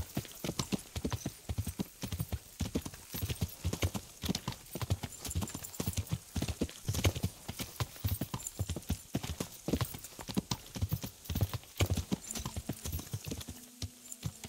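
A horse's hooves clip-clop steadily and close up in Kingdom Come: Deliverance, a fast, even rhythm that runs without a break and ends with a brief whinny-like sound.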